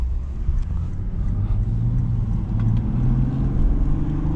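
A 2024 Lexus IS 350 F-Sport with its 3.5 liter engine accelerates in sport mode, a steady low engine drone that rises slightly in pitch as it pulls, heard from inside the cabin with no talking.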